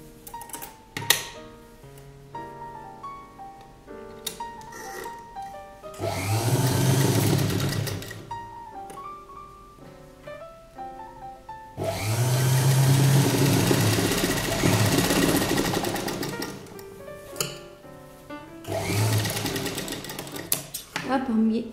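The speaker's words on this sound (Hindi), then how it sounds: "अब हम ये वाला पार्ट लेकर यहाँ पर ऐसे सिलाई लगा लें।" Electric sewing machine stitching the seam of a boat neck kurta, running in three long whirring bursts separated by pauses with small clicks and handling sounds, close and moderately loud.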